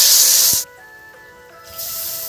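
Water hits a hot cooking pan with bay leaf and turmeric for a fish curry, giving a loud, sharp hiss that cuts out briefly and then surges back.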